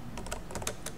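Typing on a computer keyboard, a quick run of close, crisp key clicks in an uneven rhythm over about a second, with no talk.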